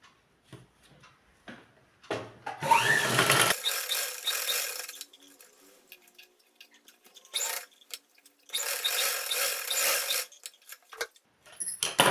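Sewing machine stitching elastic into a waistband of ladies' trousers, two bursts of rapid running stitches separated by quieter handling, fairly close and with no talking.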